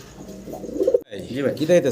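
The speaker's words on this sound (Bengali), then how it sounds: "এটা পাকিস্তানি কবুতর সাদা" Low, rolling coos of white Pakistani pigeons repeat close by, with a short break midway; soft murmuring fills the background.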